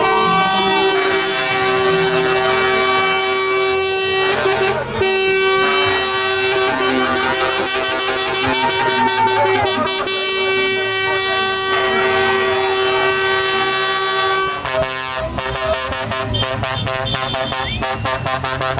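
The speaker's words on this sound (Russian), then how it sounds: "Все люди там сигналят, радуются." Car horns honk in a street celebration after the 2022 Brazilian presidential election, with a long sustained horn blast and overlapping toots blaring loudly amid a noisy crowd, and voices mixed into the din.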